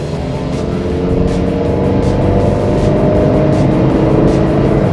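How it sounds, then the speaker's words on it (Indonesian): A 2015 Honda Mobilio E CVT, front-wheel drive, pulls away from a standstill with a loud, steady engine drone that climbs as it accelerates toward maximum revs, heard from inside the car without talk. "kita coba tes ya mobil dari diam seperti apa gas-gasannya, RPM-nya sampai mencapai maksimal"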